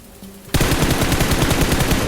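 Automatic gunfire bursts out after a quiet half second of low hum, a fast steady stream of loud shots from hip firing in the mobile shooter PUBG Mobile, continuing without pause to the end.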